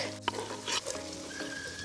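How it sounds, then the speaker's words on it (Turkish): Red peppers sizzle steadily in a pan, with a couple of sharp clinks and scraping stirs over the soft, continuous frying hiss. "Onları da bir güzel soteliyorum."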